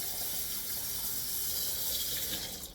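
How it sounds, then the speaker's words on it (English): Tap water runs steadily into a container to fill a drink glass with ice, a continuous close hiss of pouring water with no talking. "I'm immediately going to get the water ready and ice cold in here."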